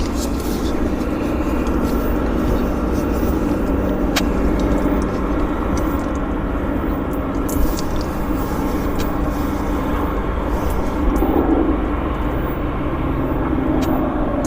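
An airplane is towed between gates at Vancouver's YVR airport, heard as a steady, fairly distant low rumble of ground vehicle and airport noise with no clear peaks.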